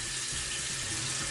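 Tap water runs steadily into a bathroom sink, a continuous close hiss and splash of flowing water with no pauses and no talking.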